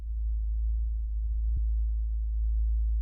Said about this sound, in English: It's just this sub bass, very low sub bass tone or frequency.